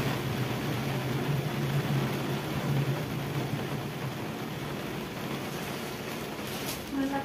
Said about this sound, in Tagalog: malakas na hangin, malakas na ulan